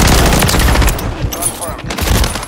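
A remote turret in Call of Duty fires rapid, loud bursts of automatic gunfire, dense and close at first and then thinning into sporadic shots, with voices mixed in.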